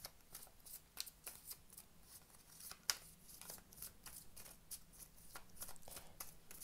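Tarot cards shuffled by hand in a quiet room, a steady run of soft riffling flutters and light card slaps repeating throughout, fairly faint and close, with no talking.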